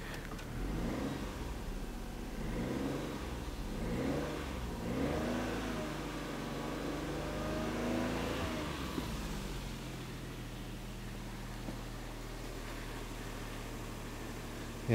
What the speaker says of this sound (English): So let's give it some gentle revs as if we were driving away.